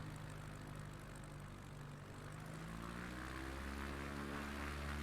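Light propeller aircraft engine throttled back on landing approach, a steady loud drone whose pitch shifts downward as power is cut, continuous throughout with no talk.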